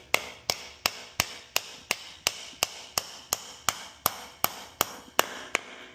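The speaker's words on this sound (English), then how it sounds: "The first option is just simply use nails to fasten one piece to the next." Steady hammer blows drive nails into pallet wood for a DIY garden bed, about fourteen sharp, evenly spaced strikes, close and loud, with no voices.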